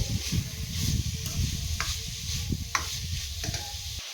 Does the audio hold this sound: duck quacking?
no